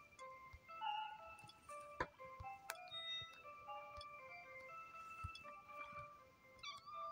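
Meows from a cat in the video game Cats are Liquid: A Better Place, repeated over a faint game music backdrop with occasional clicks, fairly quiet and without talk.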